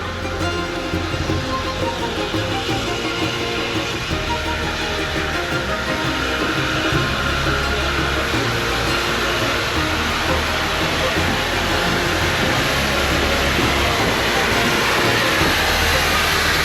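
A heritage train, the Golden Arrow, rumbles and clatters steadily as it rolls into a station on the Bluebell Railway, a loud, continuous mechanical roar with wheel noise and a faint voice underneath.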